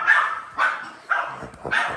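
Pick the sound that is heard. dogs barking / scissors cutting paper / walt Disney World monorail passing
dogs barking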